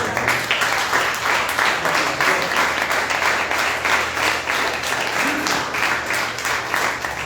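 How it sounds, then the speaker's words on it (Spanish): A church congregation gives sustained applause for the Lord during a sermon, a dense, even wash of many hands clapping that holds steady throughout with no talk on top. "Denle un aplauso a mi Señor."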